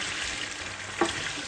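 Stirring caramelizing garlic chicken adobo in a pan: a steady sizzle and fry with one brief clink of the spoon against the pan near the end, with no talking.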